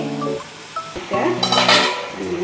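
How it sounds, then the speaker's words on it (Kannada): Metal and ceramic clatter close by as a plate is set over a frying pan of pepper chicken, a few short clinks and scrapes over a low sizzle. "ಇವಾಗ ತಟ್ಟೆ ಮುಚ್ಚೋಣ."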